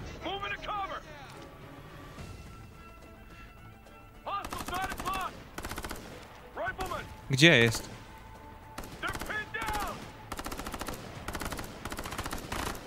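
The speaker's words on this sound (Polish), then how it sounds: "Słyszę strzały, tylko nic więcej." Bursts of rapid gunfire crackle in scattered volleys through the soundscape of the video game Ghost Recon: Future Soldier, with a voice speaking briefly over the shooting.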